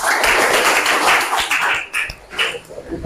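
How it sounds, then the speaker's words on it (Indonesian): A classroom group claps together in a quick burst of loud, close hand claps that fades into scattered taps and brief murmuring. "tepuk tangan"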